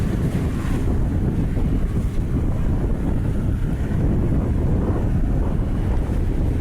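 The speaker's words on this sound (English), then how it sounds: "A lot of wind out here right now." Wind buffets the microphone in a constant low roar during a sailing race at sea, with water wash underneath and no talk.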